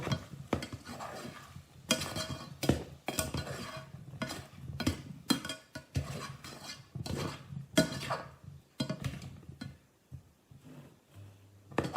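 Pasta sauce being stirred in a pan on the stove, with repeated scraping and clinking of a utensil against the pan in an uneven rhythm, close and fairly loud, with no talking.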